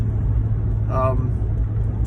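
Vehicle with electric brakes driving home, a steady low engine rumble and road noise from inside the cab, with a person talking over it.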